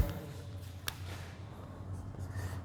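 Faint scratching and tapping of a marker or chalk writing an equation on a classroom board, with one sharp knock near the start against a quiet room hum.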